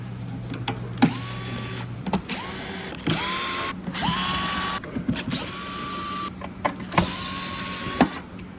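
A powered screwdriver whirs in repeated short runs as it removes screws from the top cover of an Enbio Pro autoclave, each run rising in pitch, with clicks and handling noise between them, close and clear.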